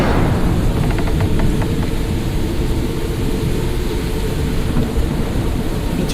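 Rain and thunder in a stormy outdoor scene: a heavy, steady hiss of rainfall under a deep rumbling roll, loud and unbroken throughout.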